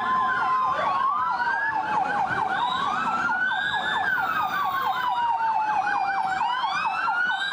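Emergency vehicle siren at a staged road accident simulation with firefighters and SAMU paramedics in Abaetetuba, loud and continuous, wailing up and down in long sweeping cycles with faint traffic beneath.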